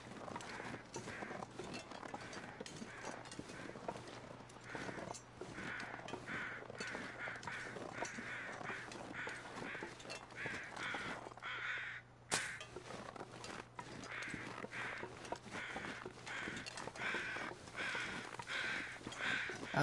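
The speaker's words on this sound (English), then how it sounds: "I hear crows." Crows caw repeatedly in a foggy outdoor scene in the survival video game The Long Dark, with a steady ambient wind bed throughout and a brief dip in the background partway through.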